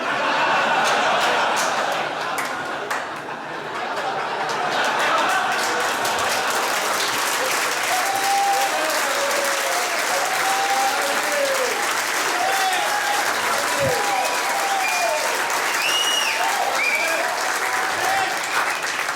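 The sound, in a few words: comedy club audience applause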